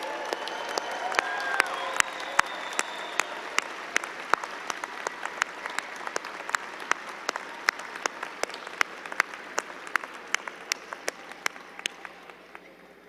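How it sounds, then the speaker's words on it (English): Graduates at a business school commencement applaud their friends and family, a large crowd clapping with many crisp individual claps over a dense wash, fading slightly toward the end. "let's give them the biggest possible applause that you can give"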